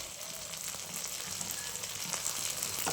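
Tomato paste and whole garlic cloves frying in a pan, a continuous, close crackling sizzle with no voices heard.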